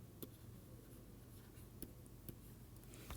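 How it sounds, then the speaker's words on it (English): Pen strokes of someone writing out a mathematical proof by hand, very faint and close, with a few soft taps and scratches against a quiet room hum. "So proof, let us write quick proof."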